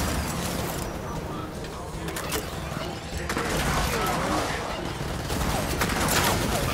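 Gears of War 4 firefight with dense, continuous gunfire volleys and sharp mechanical clanks, loud and unbroken across the whole stretch.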